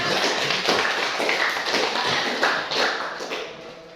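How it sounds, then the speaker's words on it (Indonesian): Students clapping for a classmate in a Python coding class, a steady patter of many hands that swells and fades in waves over a few seconds, with no voices. "kita tepuk tangan untuk teman kita."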